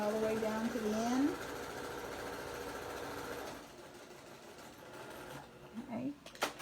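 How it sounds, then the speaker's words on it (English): A sewing machine runs steadily while stitching down the side of a fabric snap bag with its strap, then stops and goes quiet, with a voice speaking over the stitching. "I'm sewing all the way down to the end"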